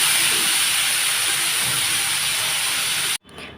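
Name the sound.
spice paste sizzling while frying in a wok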